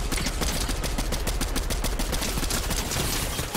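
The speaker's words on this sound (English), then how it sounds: "It's the combat SMG." Rapid automatic fire from a combat SMG in a shooter video game, a dense, loud stream of gunshots running continuously for several seconds with no pauses.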